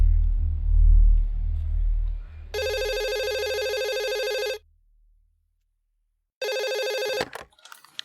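An electronic telephone ringing loud and close in two long trilling bursts separated by silence, after a low rumbling background.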